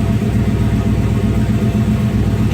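A Volvo car engine running just after a cold start in freezing weather, a loud, steady low rumble close by with an even, throbbing idle and no talking.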